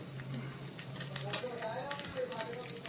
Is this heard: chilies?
yes